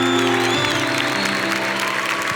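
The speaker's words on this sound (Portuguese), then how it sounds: "Eu queria que vocês aplaudissem São João Paulo II" An audience at a youth Catholic gathering applauds steadily through the moment, a dense close clapping with tonal music or feedback running underneath.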